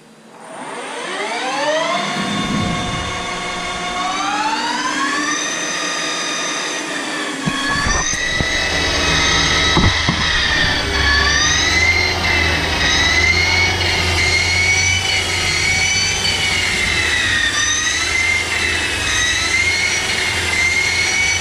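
CNC lathe turning the outside diameter of a guide roller without coolant, a loud whining spindle tone that ramps up in pitch, then steadies with a grinding cutting rumble and occasional clicks underneath.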